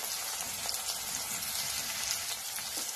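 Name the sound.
onion and tomato frying in a pan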